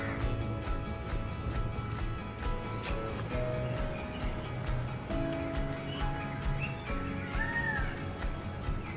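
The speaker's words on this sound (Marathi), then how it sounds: "ऐकलात मोराचा आवाज?" A peacock calls from somewhere nearby at the Taj resort villas by Aguada fort. Its loud, wailing cry rises once or twice over a steady outdoor background with other bird and animal sounds.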